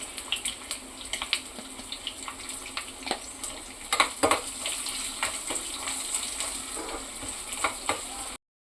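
Salted, spiced freshwater fish sizzling steadily in hot oil in a pan, with a constant crackling hiss broken by occasional louder pops and spatters, close and fairly loud with no talking.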